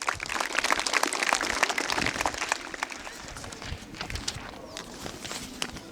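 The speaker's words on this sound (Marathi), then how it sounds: "जोरदार टाळ्या याच्यासाठी एकदा." An audience at a Shiv Jayanti quiz event bursts into dense, loud clapping that thins out and fades over several seconds.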